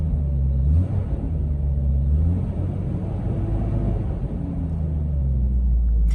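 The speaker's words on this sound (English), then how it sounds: "I'm gonna give it a rev just to see how the interior noise is." A Jeep Cherokee XJ engine revs up and falls back as heard from inside the cabin, a low steady rumble rising in pitch for a couple of seconds before settling back to a muffled idle.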